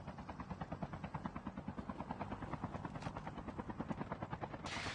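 A military helicopter in a video game thumps with rapid, steady rotor beats, loud and close throughout, with no talk over it.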